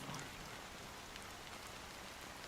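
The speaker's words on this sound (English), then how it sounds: "how long has this rain been going on for?" Steady rain falling in the video game Honkai: Star Rail, a dense even hiss of drops with faint pattering, continuous and fairly quiet throughout, with no voices.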